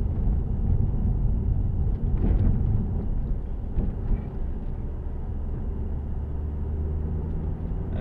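Inside a Ford Focus ST225 on the road with the windows shut, a steady low road-and-engine rumble drones on, with a few soft bumps and knocks over the constant hum.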